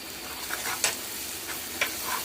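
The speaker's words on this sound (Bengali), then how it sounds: "গোটা মশলা ভালো করে কষিয়ে নিতে হবে তারপরে দুই টেবিল চামচ টমেটো সস" Whole spices stir-fried with tomato sauce in a pan for beef pasta, a steady soft sizzle with occasional scraping stirs on top.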